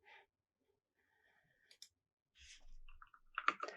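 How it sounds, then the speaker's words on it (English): Mouse clicks on a button to run a Python Discord currency bot's code, heard as a few quiet, sharp clicks scattered through near-silence, ending in a slightly louder burst of clicking. "now what we're going to do is we're going to click this slow button here, and I'm actually going to run it"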